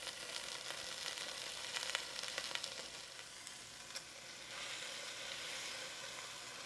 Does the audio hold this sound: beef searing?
yes